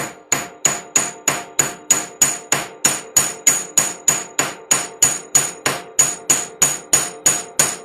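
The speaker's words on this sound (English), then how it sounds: "I'm going to flatten the very end of this wire here with the other end of my chasing hammer" A chasing hammer pounds the end of a wire flat in a steady, fast run of about twenty sharp, ringing metallic strikes, close and loud, with no talking.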